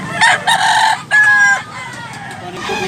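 A white Kelso rooster, a two-year-old bullstag gamecock, crows close by in a short, strained burst, with brief clucks and faint background chatter around it.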